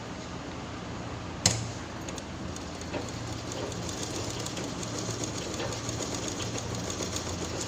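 A sewing machine stitches a cloth purse with a continuous, fairly quiet whirring run, broken once early by a sharp click.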